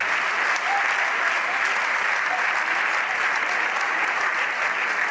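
Socialist deputies in Spain's Congress of Deputies applaud after a vote repealing an omnibus decree. The hall is filled with dense, sustained applause at an even, loud level throughout.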